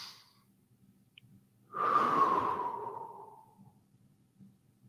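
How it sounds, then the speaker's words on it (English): A single deep breath drawn in and slowly let out at close range, rising sharply then fading over a couple of seconds, with near silence around it. "Nice deep breath."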